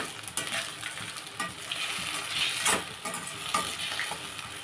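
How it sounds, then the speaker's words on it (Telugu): Tomatoes with salt sizzle in a frying pan while a spoon stirs them steadily, the scraping strokes rising over a continuous close hiss with no talking. "కొంచెం సాల్ట్ వేసుకుందాం కలిపేసుకుని"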